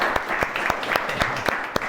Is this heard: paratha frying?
no